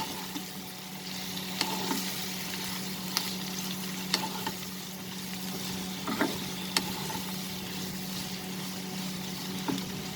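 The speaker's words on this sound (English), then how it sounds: "Put the flame into medium high and fry the Bittergourd also." Bitter gourd (karela) fries in a pan over medium-high flame, giving a steady close sizzle throughout with occasional sharp crackles and pops.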